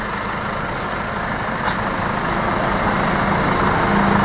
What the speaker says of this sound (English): And of course, lots of tuk-tuk.